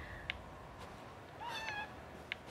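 A pet cat meows a few times nearby in a home during video game play, short distinct cries with one longer wavering meow in the middle, over soft background noise.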